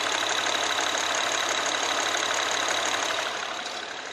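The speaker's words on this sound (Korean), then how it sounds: "엔진 소음 먼저 들려드리면은" A used car engine with about 60,000 km idles steadily up close, a smooth, even hum with a faint rhythmic tick, dropping slightly in level near the end.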